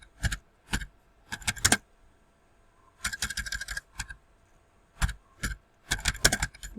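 Bursts of clicky keystrokes on a computer keyboard while typing code, clustered in quick runs separated by short pauses, close and fairly quiet with no talking.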